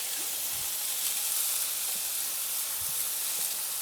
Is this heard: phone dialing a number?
no